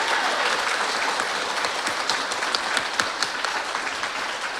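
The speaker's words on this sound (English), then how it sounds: "Can we give our speakers a round of applause" Applause from a gallery audience for the speakers at an evening art talk, sustained dense clapping from many people, steady and fairly loud throughout, with occasional sharper claps standing out.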